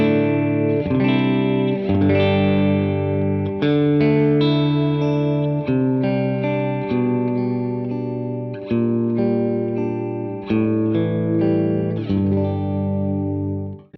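Suhr PT15 I.R. guitar amp on its clean first channel, with effects layered in from outside the amp: sustained chords and picked notes ring with a shimmering, chorus-like wash and a touch of grit, played steadily and loud with no talking.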